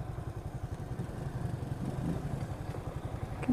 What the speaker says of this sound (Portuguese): O cara vai manobrar a moto